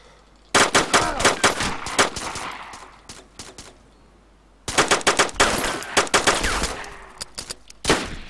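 Rapid bursts of automatic gunfire from a first-person shooter game crackle loudly in two long volleys, separated by a short quiet gap, with a few scattered single shots after.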